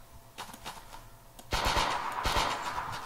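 Gunfire from a third-person shooter game in development, with a few sparse shots early, then a louder run of rapid repeated shots in bursts that carries on to the end.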